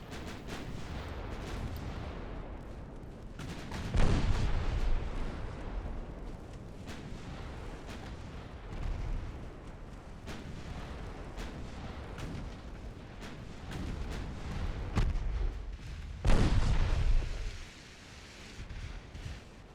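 Naval 9-inch guns fire in the warship game Ultimate Admiral Dreadnoughts, heavy booming blasts at irregular intervals over a constant low rumble of wind and sea, with two especially loud deep shots standing out.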